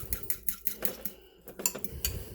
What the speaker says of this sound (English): Stir it up, give it a good stir.